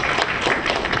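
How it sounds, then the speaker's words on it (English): An audience applauds at a Debian conference greeting, a dense steady wash of many hands clapping together, close and fairly loud for about a second. "So I'd like to give them a bit of applause real quick."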